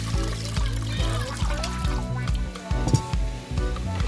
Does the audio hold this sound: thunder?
no